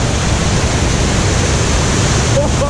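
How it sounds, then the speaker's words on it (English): Rushing waterfall on a long theme park rapids ride at Heide Park, a steady broad roar of falling and splashing water filling the whole span, close and loud, with faint voices near the end. "Probably the best waterfalls I've ever seen on a rapids then."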